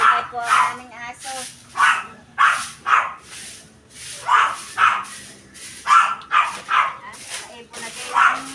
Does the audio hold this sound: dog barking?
yes